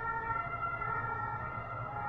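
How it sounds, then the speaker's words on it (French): An ambulance siren wails steadily, moderately loud and constant, as the vehicle passes by on the street. "vu l'ambulance qui vient de passer"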